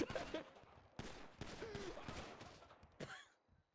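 Gunfire in a video game roleplay stream, several sharp shots and a fast burst ringing out over game sounds and excited shouting voices, with a final loud crack near the end.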